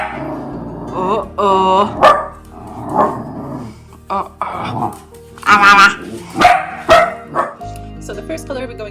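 Dogs barking outside a house during a Victorian hallway makeover, a series of sharp barks and yips with some whimpering, moderately close, mixed with someone talking.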